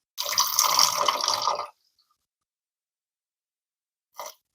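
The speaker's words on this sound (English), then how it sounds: "So now it's a matter of just letting the water run all the way through your sausage." Tap water running through a fresh sausage casing to rinse its inside while making homemade bratwurst, a steady splashing gush for about a second and a half, then silence and a brief final trickle.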